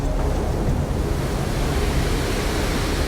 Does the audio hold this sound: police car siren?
no